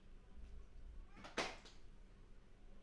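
A cat gives a single short meow partway through, close but faint, over a quiet room background with no talk.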